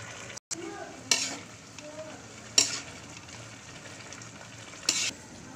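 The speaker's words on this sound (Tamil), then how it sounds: "நல்லா கொதிக்குது. ஒரு கலர் கலரிட்டு" Vegetable biryani boiling in a pot on the stove, with a sizzling bubbling bed and three sharp scraping stirs of a spoon against the pot, spaced a second or two apart.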